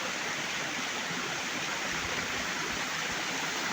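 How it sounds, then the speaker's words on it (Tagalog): A creek swollen by heavy rain in the Philippines rushes in a constant, dense roar of flowing floodwater, close and steady throughout with no voices. "Gabaha among sapa."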